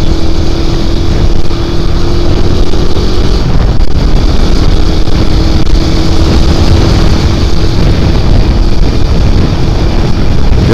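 A motorcycle speeding along a road, with a steady loud engine drone and heavy wind rush on the microphone throughout, no talking.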